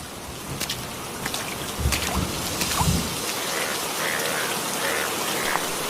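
Steady rain falling in a cartoon scene of a rainy-day meat market, a continuous loud hiss of downpour with scattered heavier drops and low thuds, with no talk over it.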